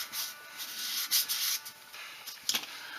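Sandpaper rubs over a wooden .410 shotgun stock during repair, giving soft, close, irregular scratchy strokes in short bursts with brief pauses between them.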